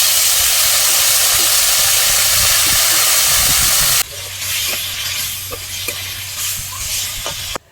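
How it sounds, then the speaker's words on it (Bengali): Ground spices such as coriander and dried chilli powder fry in a pan while cooking mug dal, a loud dense sizzle and hiss that drops abruptly midway to a quieter crackling sizzle with scattered stirring clicks. "মশলাগুলো দিয়ে 2 মিনিট ভেজে অল্প একটু জল দিয়ে দেব।"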